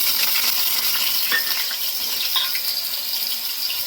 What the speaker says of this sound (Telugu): ఈ onion paste golden brown colour వచ్చే వరకు ఫ్రై చేసుకోవాలి